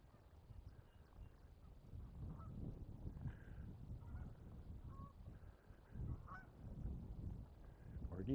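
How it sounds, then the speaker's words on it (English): Geese honk in scattered calls along a creek in Regina on a hazy summer morning, fairly faint and distant, over a steady outdoor background. "More geese."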